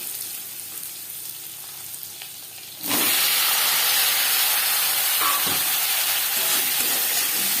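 Potato pieces dropped into hot oil with cumin seeds burst into a loud, steady sizzle and hiss that starts abruptly and keeps crackling, with a few stirring knocks near the pan.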